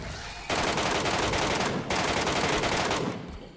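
An air gun fires rapid automatic bursts in PUBG Metro Royale: two long, loud, continuous volleys separated by a brief gap, ending as the shooting cuts off.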